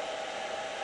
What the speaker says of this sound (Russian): И сразу начинает работать вентилятор.